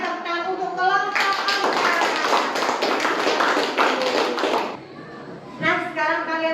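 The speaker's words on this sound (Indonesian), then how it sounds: "Sekarang tepuk tangan untuk kelompok" Classroom of students clapping for a group that has just presented, a dense burst of handclaps lasting about four seconds between stretches of a teacher's voice.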